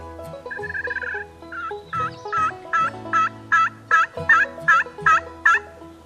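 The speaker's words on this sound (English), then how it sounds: "I hear 2 gobbles now." Wild turkeys gobble in a wooded setting, a long first call followed by a rapid series of about a dozen evenly spaced, loud, rattling gobble bursts, with no talk.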